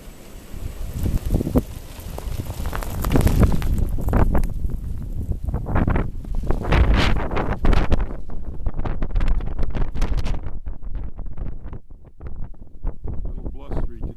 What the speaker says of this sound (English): A little blustery today.